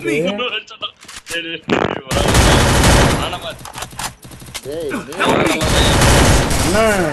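Rapid automatic gunfire bursts in a shooting video game, loud and close, in long sustained volleys broken by short gaps, with excited voices talking over the shots.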